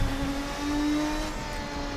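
A Lister Storm race car from a Race Sim Studio GT mod pack in Assetto Corsa holds a loud, close, buzzing engine note that rises slightly then eases, alone without talk.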